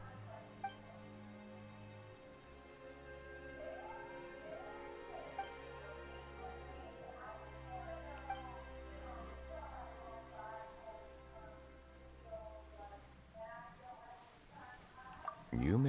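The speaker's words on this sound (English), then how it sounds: "Why is it raining all of a sudden?" Steady rain patters throughout a Genshin Impact game scene, a soft continuous hiss beneath game music and character voices that talk over it.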